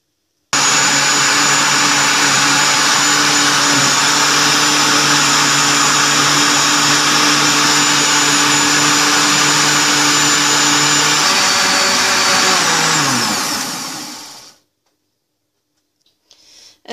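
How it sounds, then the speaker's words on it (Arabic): An electric blender whirs steadily and loudly, blending cucumber with powdered milk into juice, running continuously before winding down and stopping, then near silence. "دابا غادي ندير هذه المكونات ديالي وغادي نشغل الخلاط وغادي نطحنهم مزيان"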